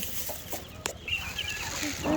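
Chickens cluck softly and close by as they are fed, a few short calls over a low background bustle in a brief stretch.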